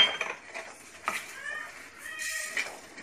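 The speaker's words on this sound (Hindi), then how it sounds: "मेरी मम्मा इनको हिला रहे हैं जब तक ये जले नहीं" Fenugreek, cumin and carom seeds being stirred as they roast in a pan, with a quiet scraping of a utensil against metal and scattered light clinks, close and faint.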